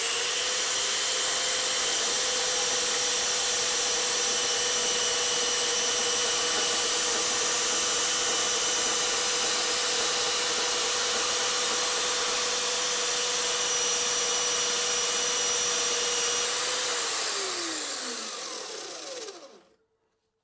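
A Parkside PMB 1100 B2 metal band saw runs through a cut with a steady, loud whine and blade hiss for about seventeen seconds, then the motor pitch drops as it winds down and stops.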